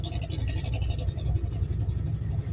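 A 630-horsepower 351 Windsor V8 in a Fox Body runs with a steady, loud low rumble and a choppy, pulsing texture, close and continuous with no talking.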